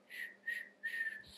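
Three short whistled notes, the last one longer with a slight wavering pitch, clear and close with quiet pauses between them.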